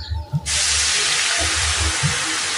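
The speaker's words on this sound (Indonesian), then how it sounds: "Setelah ini kita akan gongsong bumbunya. Kita pakai minyak bekas goreng teri nggak apa-apa, biar gurih." Spice paste hits hot used anchovy frying oil with a sudden loud hiss and keeps sizzling steadily, while low clatter and soft background noises sit underneath.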